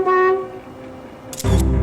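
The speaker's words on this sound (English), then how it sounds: "Honk a couple times." A car horn sounds in a short tooting blast, fades, then a louder burst of noise follows near the end.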